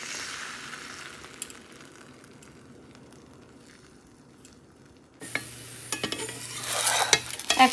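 Roti cooking in a hot pan at home, a faint, low sizzle that swells suddenly into a louder hiss and crackle with a few knocks as the bread is turned over, heard close with no talking.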